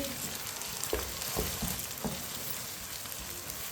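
Crushed ginger and garlic fry in a hot pan while being cooked for biryani, a steady sizzle with a few soft stirring knocks, continuous and close.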